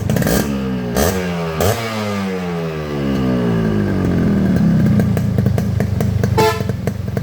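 A Japanese Yamaha RXS 115 motorcycle engine runs loud and close, its revs sweeping up and down with a buzzy two-stroke tone and rattly clatter.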